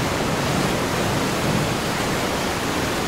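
Storm and huge crashing waves in the Prodigy Math video game, heard as a steady, loud, dense roar of water that fills the whole stretch without a break or any voices.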